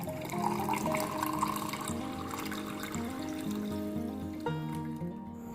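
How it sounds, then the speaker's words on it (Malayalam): A strained summer drink poured from a vessel into a glass, a steady liquid trickle and splash running close and continuous throughout with no talk over it. "ഇനി ഇത് നമ്മൾ ഒരു അരിപ്പ വെച്ചൊന്ന് അരിച്ചെടുത്തിട്ട് ഗ്ലാസ്സിലേക്ക് ഒഴിക്കാം."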